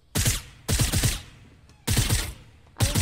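Video game gunfire in Fortnite Battle Royale Prop-Hunt mode, heard as four loud bursts of rapid automatic shots with short pauses between them.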